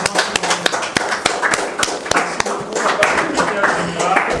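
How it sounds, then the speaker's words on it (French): An audience at a press gathering applauds after a speech: scattered sharp claps ring out over a steady murmur of talk and room noise, thin and irregular rather than a full ovation. "Vos applaudissements."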